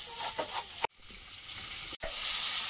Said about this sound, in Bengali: মাছের মুড়োগুলো ভাজা হয়েছে